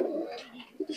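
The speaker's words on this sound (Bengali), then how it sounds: "এর ভিতরে সব হলো মাদি কবুতর" Female breeder pigeons in a loft give soft, close coos in a few short, rounded phrases, with two quick coos near the end.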